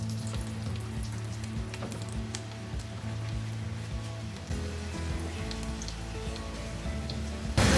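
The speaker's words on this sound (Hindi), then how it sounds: "हल्का सा पहले मैं इन्हें फ्राई कर लूंगी।" Six cashews and six almonds frying lightly in a pan make a steady, crackling sizzle like light rain, continuous and close throughout, with a low background hum.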